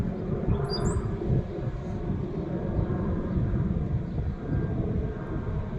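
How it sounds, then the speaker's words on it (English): A loud, steady roar of an airplane passing overhead during a morning garden stroll fills the whole stretch, a broad rumbling drone that barely changes. "There's an airplane passing overhead."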